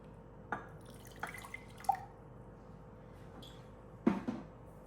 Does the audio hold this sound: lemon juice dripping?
yes